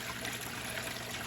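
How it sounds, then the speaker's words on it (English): Water trickles steadily through a custom-built strainer filter on a backyard pond at night, a soft continuous low-level flow with no voices. "You can see the water actually flowing through"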